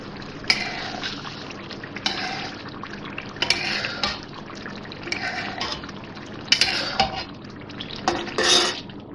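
A chicken handi curry with cream is stirred in a pot: a spoon scrapes and clinks against the metal in repeated strokes, with wet, thick sloshing between them, close and alone.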